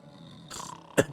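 A cartoonish snoring sound effect from the video game Nine Sols: a breathy rasp swells up, then a louder, abrupt snort bursts out close by with no talk over it.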